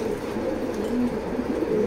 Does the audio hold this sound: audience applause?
no